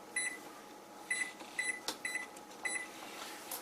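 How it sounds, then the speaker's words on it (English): An oven control panel gives a series of short electronic beeps as the temperature is turned down, several separate chirps with irregular spacing against a quiet room. "turning the oven down to 350 now"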